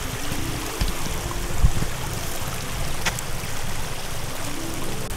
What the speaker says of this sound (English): There's a stream running through right by me here that leads down to that waterfall